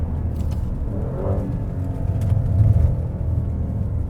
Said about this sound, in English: This is a hard car to drive quietly